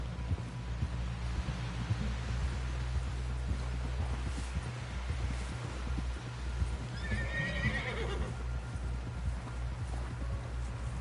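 A horse whinnies loudly partway through, over a steady rhythm of hoofbeats clip-clopping at a trot in Red Dead Redemption 2, close and clear against a low ambient hum.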